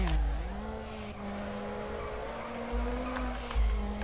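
A Nissan Sentra drifting in the video game Need for Speed Underground, its engine droning steadily under a long tire squeal that rises and falls, with a few louder thumps near the end and no talk.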